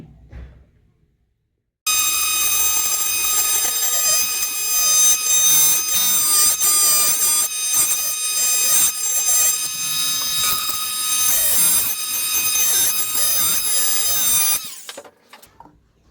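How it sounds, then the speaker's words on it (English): A sagittal saw cutting entry holes in a handle for an Alaskan ulu knife whines loudly and steadily for about thirteen seconds, starting abruptly after a short quiet gap and cutting off near the end. "So now I'm going to use this sagittal saw to make my entry holes for the handle."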